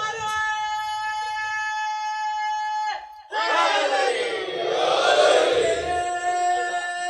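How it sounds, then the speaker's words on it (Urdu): A crowd at an Urdu religious gathering raises loud slogans in unison, bursting in after a sustained harmonic tone and swelling into a dense, roaring wall of voices that holds for several seconds. "اچھا یہاں اب یہ سادہ سادہ لوگ نعرے لگا رہے ہیں"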